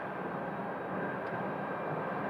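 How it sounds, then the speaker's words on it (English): An Embraer jet, Envoy flight 4016 just landed from Tulsa at Phoenix Sky Harbor, produces a steady broadband engine roar, moderately distant and unbroken, with no voices. "this Embraer is Envoy 4016. Just landed from Tulsa, Oklahoma"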